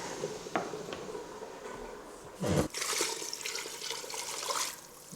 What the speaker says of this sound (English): you're going to add in 5 quarts of water.